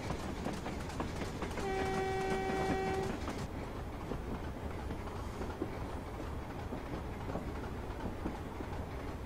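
A BR Class 25 diesel locomotive in Train Simulator 2015 on the Weardale and Teesdale network rumbles steadily, with a brief horn-like tone early on, then a continuous low engine and rail drone.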